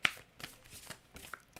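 A deck of playing cards shuffled close up, a series of crisp riffling bursts and soft flicks at an uneven rhythm, fairly quiet, with no talking.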